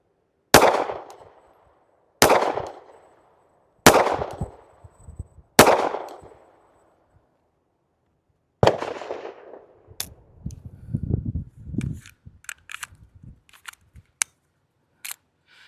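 Four sharp, loud pistol shots from a S&W Bodyguard 2.0 firing .380 ACP Winchester Defender rounds at an outdoor range, evenly spaced about 1.5 seconds apart, followed by another report and scattered clattering handling noises.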